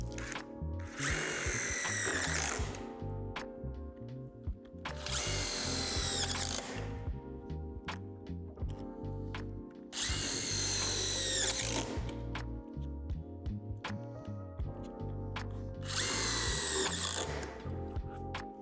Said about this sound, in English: secure with the self-tapping screws. They are designed to go through the metal underneath.